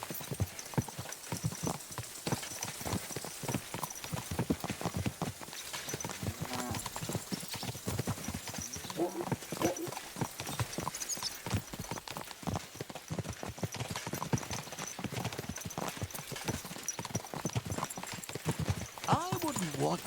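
Horse hooves clip-clop in a steady, continuous rhythm throughout in the video game Kingdom Come: Deliverance 2, a fairly faint gait heard under game dialogue.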